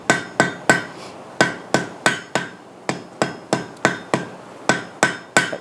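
A hammer strikes hot steel in a forge weld on a trivet, about eighteen sharp ringing blows in a steady, slightly uneven rhythm, close and loud with no talking.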